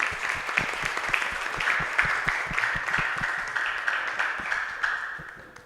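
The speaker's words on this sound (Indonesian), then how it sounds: "beri tepuk tangan yang meriah" Lively applause from a student audience at a school OSIS leadership candidate debate in an Islamic vocational school hall, dense steady clapping sustained for several seconds, then thinning out toward the end.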